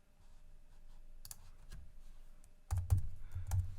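A few light keystrokes and clicks come from a computer keyboard, sparse at first and then a denser cluster of taps near the end, quiet and without speech.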